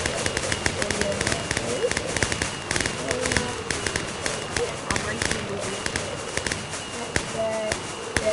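Firework rockets boost elytra flight in the Minecraft video game, giving a steady stream of crackling, popping bursts that run close and loud throughout, over a busy background.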